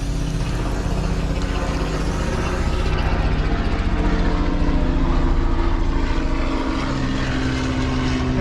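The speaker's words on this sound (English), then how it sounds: "of course the helicopter just happened to pass over" A helicopter passes overhead outdoors, a loud continuous rotor and engine roar with a rhythmic chop that builds toward the middle and stays strong to the end.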